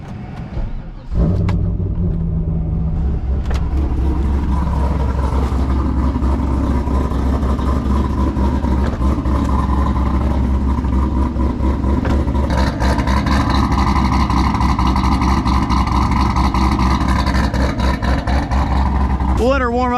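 A cammed C5 Corvette V8 with a six-speed manual catches and settles into a loud, lumpy idle while warming up, a heavy steady rumble close by, with someone speaking over it.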